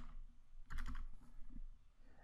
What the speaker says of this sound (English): So if I click on the text box and start typing Black